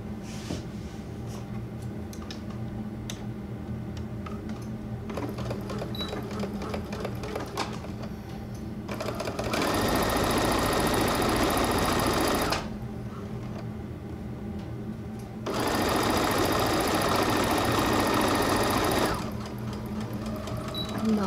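A sewing machine stitching a quarter-inch French seam runs in two steady, loud bursts of rapid whirring, separated by quieter handling sounds, close by.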